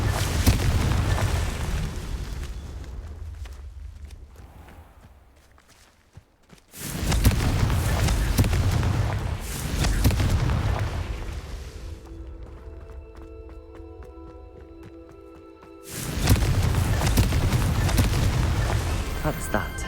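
Confringo spell blasts go off in the Hogwarts Legacy game as loud, broad booming bursts separated by quieter stretches with faint ambient and mechanical sounds, and a voice talks at times.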